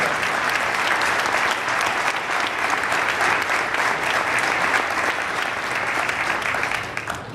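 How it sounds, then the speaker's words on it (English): Sustained applause from a ceremony audience honoring employers who hire veterans, a dense, steady wash of many hands clapping close by for about seven seconds before tapering slightly at the end. "Would you join me in applauding all of those employers?"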